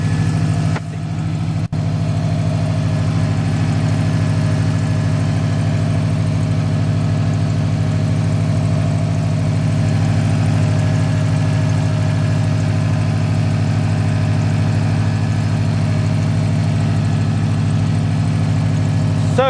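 A Subaru WRX engine idles steadily after a jump start, a loud, even low hum with a constant pitch that continues unbroken close by.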